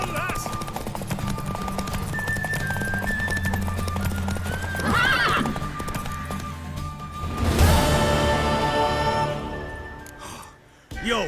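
In a video game, hooves pound in a fast gallop over a constant background, and a horse lets out a loud, shrill neigh partway through.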